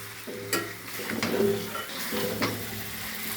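Chicken curry with fried potato pieces sizzling in a pan while being sautéed, a steady low crackle broken by a few sharp scraping stir strokes, close and moderately loud, with no talking.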